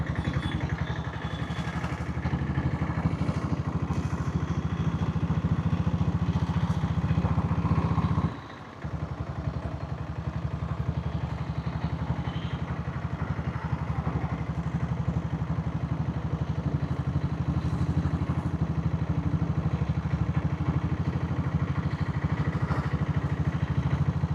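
A diesel Royal Enfield Bullet motorcycle riding at night, its engine running as a steady, continuous drone throughout with one brief dip, close and fairly loud, with no talking.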